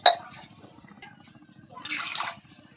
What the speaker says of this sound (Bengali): তো আর একটু জল দিয়ে দিই।